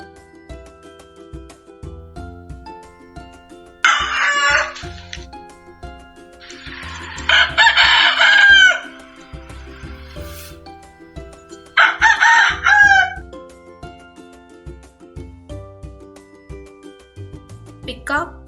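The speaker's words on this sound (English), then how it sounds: "Cock sounds crow." A rooster crows three times, each a loud, clear cock-a-doodle-doo standing out over a steady background music bed, with short gaps between calls.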